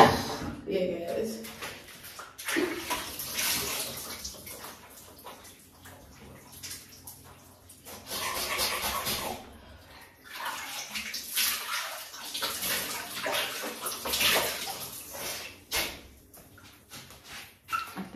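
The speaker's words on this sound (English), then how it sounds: "Be bending down and washing my face like that can't be right." Water splashing and sloshing in a bath pan while someone washes their face at an off-grid homestead, close intermittent bursts of splashing and dripping broken by pauses, with a person talking between them.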